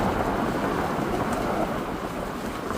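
Heavy stormy downpour in Devgad, a dense, steady roar of rain with deep rumbling thunder mixed in, loud and continuous throughout with no voices.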